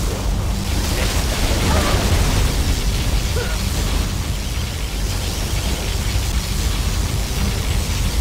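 A particle cannon fires in the game Command & Conquer Generals, a dense, continuous roaring blast with rumbling explosions sustained loudly throughout the battle, while a voice talks over it.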